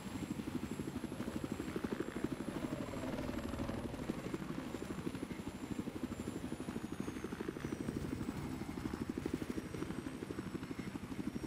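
Helicopter in a combat video game, its rotor thumping in a fast, even, pulsing beat that holds steady and fairly faint for several seconds, alone without talk.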